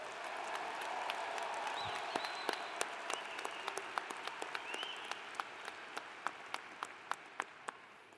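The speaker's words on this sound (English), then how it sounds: "Everybody, a round of applause for all of these graduates." A room full of people at a graduation commencement ceremony applauds steadily, with scattered sharp individual claps standing out over the continuous wash of clapping.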